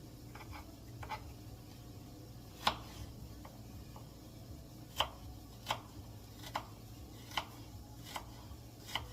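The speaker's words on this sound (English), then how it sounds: "Right now, I'm just going to focus on chopping these ones up." A knife chops onions on a cutting board for chili, with sharp, irregular taps spaced about a second apart and a few softer cuts in between, all over a low, steady background hum.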